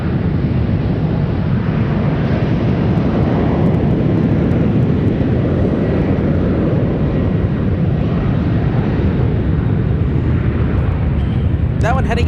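An airliner departing San Francisco for Denver roars past, a broad, steady jet rumble holding loud and near throughout, with a voice talking over it.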